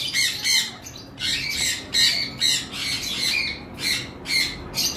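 Caged lovebirds at a bird seller's give a rapid series of loud, harsh squawks in repeated bursts, close and alone with no talking.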